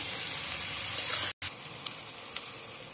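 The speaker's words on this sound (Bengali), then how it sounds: "পেঁয়াজটাকে এবারে আমি ভাজা ভাজা করব।" Onions fry in a pan for chicken keema ghugni, hissing and sizzling steadily at close range, with a momentary break before the crackle resumes.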